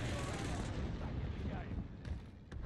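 Gunfire and explosive booms in the Call of Duty Warzone video game, a dense loud wash of shots with a couple of sharp cracks near the end, with voices mixed in.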